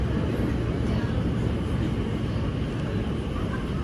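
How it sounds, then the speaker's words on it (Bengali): A train pulls into London Paddington station, a loud, steady broadband rumble that fills the whole stretch without a break. "এখানে কিন্তু আরেকটা ট্রেন আসছে।"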